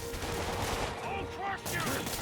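Rapid gunfire in Marvel's Spider-Man video game, a dense continuous rattle of shots over a loud game soundscape, lasting the whole brief moment.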